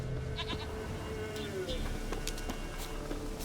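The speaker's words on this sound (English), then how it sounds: "Here, goat." A goat bleats a few times in The Witcher 3 game, short wavering calls over continuous outdoor ambience and background game sounds.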